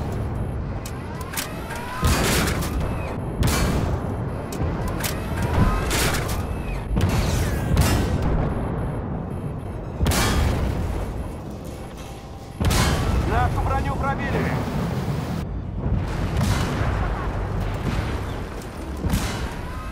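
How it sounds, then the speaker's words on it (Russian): Shell impacts on tank armor in a tank video game such as World of Tanks, War Thunder or Armored Warfare: a run of heavy, loud booming hits spread across the span, each with a sharp crack and rumbling tail, with no talk. "А теперь давайте послушаем звуки попадания снаряда в танк."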